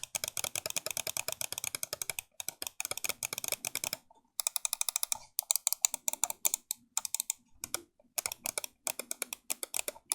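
EndGame Gear XM2we wireless mouse with opto-mechanical switches clicking rapidly and crisply up close, in dense bursts separated by brief pauses.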